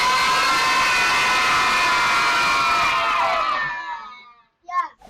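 A large crowd of children cheering loudly, a dense sustained roar of high excited voices that tapers off over several seconds, followed by a short burst of a voice near the end.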